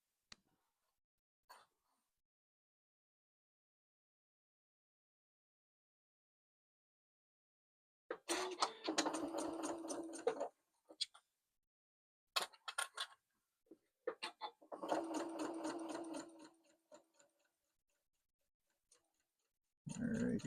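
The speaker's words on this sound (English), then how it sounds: "So this is pretty easy sewing because it's pretty much a straight line." A sewing machine stitches a shirt side seam in two bursts of rapid, even whirring, separated by quiet pauses and a few faint clicks.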